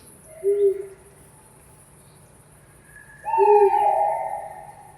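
Eurasian eagle-owls hoot on a frosty winter night: one short, deep hoot, then a quiet stretch, then a longer and louder call, over a faint steady background hum.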